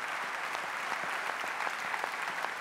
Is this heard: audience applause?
yes